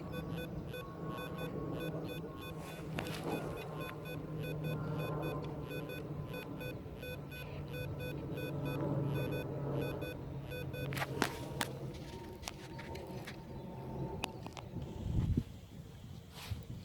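Rutus Alter 71 metal detector sweeping a littered field in all-metal mode, giving a series of steady electronic tones and short beeps, with a rustle and knock of digging near the end.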